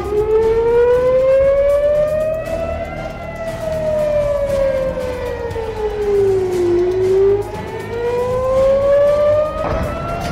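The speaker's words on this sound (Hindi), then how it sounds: "पूरे इजरायल में चेतावनी के सायरन बज उठे" A civil defense warning siren wails across Israel during an Iranian missile and drone attack. The loud, steady siren rises and falls in long slow sweeps, with a second siren faintly layered behind it.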